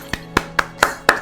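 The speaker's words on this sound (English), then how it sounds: "let's clap the artists" Five hand claps land at a slow, even pace, each a crisp short slap with faint room ring.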